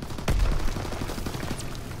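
Call of Duty WWII gunfire rattles in a rapid burst of close, loud shots, opening with a sharp heavy crack and then a steady stream of fire.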